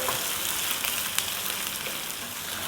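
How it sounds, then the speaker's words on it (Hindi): Chicken pieces fry with yogurt in a hot pan, giving a steady, even sizzle that hisses continuously at close range, with an occasional sharper pop or spatter and no voices. "तो बस दही के साथ भूनते हुए 2-3 मिनट हो गए हैं"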